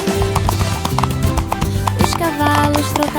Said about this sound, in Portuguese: os cavalos trotavam lado a lado.